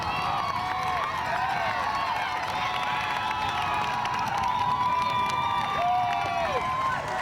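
A large crowd lines the course in Central Park during the 2011 New York City Marathon, cheering and shouting continuously as runners pass, a steady dense roar with scattered whistles and higher yells throughout.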